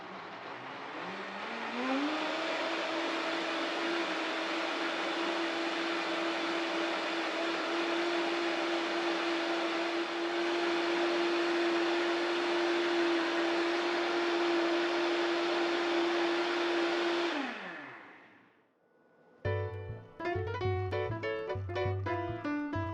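A Vitamix blender runs at its highest speed, blending cashew milk in a loud, steady, high-pitched whirr that holds for many seconds, then winds down and stops, with some clattering afterward.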